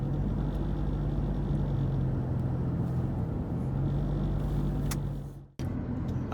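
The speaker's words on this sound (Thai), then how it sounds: "เหยียบคันเร่ง" Engine of a 2023 Toyota Hilux Revo Rocco 2.4 automatic pickup with the accelerator pressed, a part rubbing and causing vibration; a steady low droning rumble that holds evenly, then cuts out abruptly for a moment before resuming.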